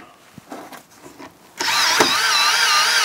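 A Wiha electric screwdriver set to its minimum setting backs out screws, with a few faint clicks and handling noises before the motor starts and then a loud, steady whir.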